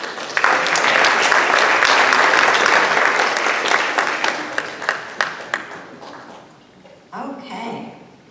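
An audience at a band concert applauds loudly and densely for several seconds, then the clapping fades out and a voice begins speaking.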